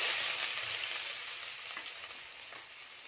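Chopped onions sauté in hot oil, a steady bright sizzle that stays loud and close throughout and fades slightly toward the end.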